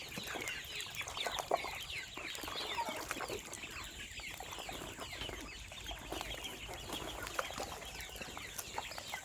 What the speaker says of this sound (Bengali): হাঁসগুলো খাবে এবার।